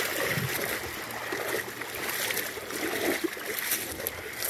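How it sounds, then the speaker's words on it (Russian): A stream gushes from a rock on Shkota Island, making a steady rushing and splashing wash of water that stays loud and unbroken throughout. "просто из скалы бьет ручей"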